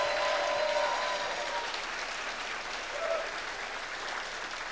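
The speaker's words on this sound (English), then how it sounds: "Let's get another round of applause for Juan Paez." An audience at a Nebraska storytelling festival applauds, a dense, sustained clapping that fades slightly toward the end.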